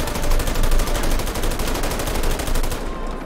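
Sustained rapid automatic gunfire in GTA 5 during a French army mission in the LSPDFR mod, dense, loud and continuous for about three seconds, then cutting off abruptly.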